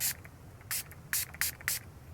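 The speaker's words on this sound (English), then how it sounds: "I'm just gonna set my makeup with this Urban Decay setting spray" Urban Decay makeup setting spray mists out in several short, soft hissing bursts, quiet and close, with brief pauses between pumps.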